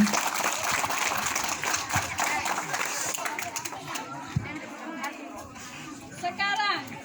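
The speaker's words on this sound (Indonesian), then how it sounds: "Beri tepuk tangan untuk kelas 1." Classroom applause for a first-grade class, a dense burst of clapping with children's voices and chatter mixed in, tapering off as talk continues toward the end.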